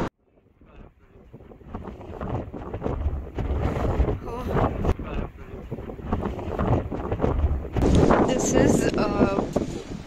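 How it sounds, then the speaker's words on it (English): Strong wind buffets the microphone in heavy gusts that rise and fall while cycling in Dublin, Ireland, with a person talking intermittently beneath the roar. "now it's so windy. It's really bad."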